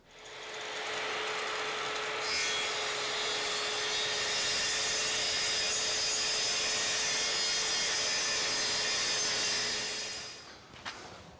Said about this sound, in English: Boy, I love a track saw.